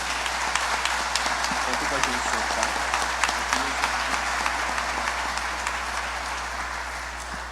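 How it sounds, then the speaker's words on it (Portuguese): A church congregation at a Wednesday worship service applauds, a dense, steady wash of many hands clapping that fills the room for several seconds, with a low constant hum underneath. "Vamos dar um forte aplauso para Cristo."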